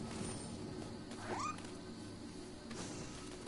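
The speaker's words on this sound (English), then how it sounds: "we got a cat that's just rolling around" A cat meows once in the video game Nioh 2, a short rising yowl over a steady bed of game ambience and music.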